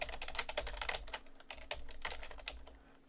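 Rapid, irregular keystrokes on a computer keyboard while VHDL code is typed, a quiet close-up patter of clicks with brief pauses and no talking.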